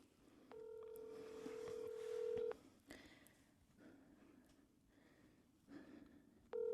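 Phone keypad tones beep briefly, then a steady ringing tone sounds for a couple of seconds, followed by quiet room noise and another ring starting.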